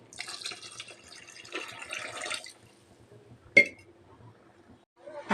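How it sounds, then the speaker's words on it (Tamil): Water poured into a mushroom biryani mixture of paste and yogurt in a pot, a quiet splashing pour for a few seconds, then a single sharp clink and a later small knock. "இப்போ வந்து நம்ம வந்து இதுக்கு வேணுங்கிற அளவு தண்ணி சேர்த்துக்கலாம்"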